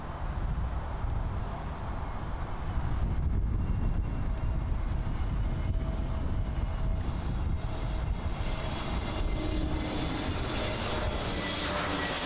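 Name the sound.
Avianca Airbus A320neo arriving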